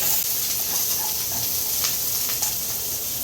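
Onion frying in a hot pan before prawns are added for a sweet and sour dish, a dense, steady hiss of oil close up with a few faint crackles, no voices.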